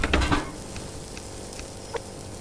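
Food cooking in a pan in the survival video game Subsistence, giving a brief burst of sizzling and frying at the start that fades to a faint crackle under steady background hiss.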